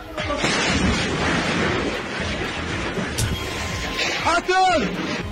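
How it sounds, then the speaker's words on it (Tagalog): A loud, rumbling explosion in Gaza roars up close and sustains into a heavy, chaotic wash of noise, with a sharp crack and a short siren-like tone near the end. "nasapul sila ng malakas na pagsabog"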